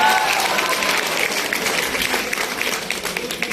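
Audience applause fills a kavi sammelan poetry gathering at a farewell event, a steady, dense wash of many hands clapping together, fairly loud and continuous throughout with faint voices mixed in.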